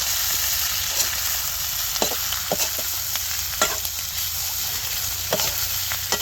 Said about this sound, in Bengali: এখন আমরা এর ভিতরে দেবো মাশরুম পাকোড়া।